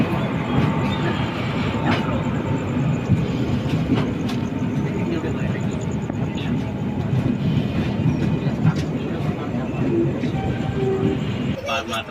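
The Kongu Express passenger train from Coimbatore to Delhi runs along the rails with a continuous loud rolling rumble and rhythmic rattling, heard steadily throughout with faint voices beneath.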